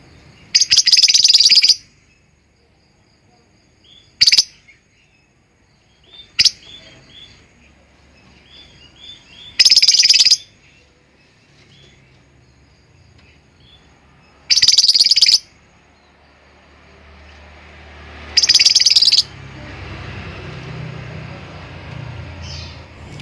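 A young lovebird lets out several sharp, high chirps in short bursts separated by pauses, loud and close, with faint background noise in between.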